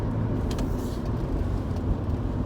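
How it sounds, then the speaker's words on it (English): A car driving along a road, with steady close in-cabin engine and road rumble running continuously with no pauses. "Don't mind me, I'm just driving to work."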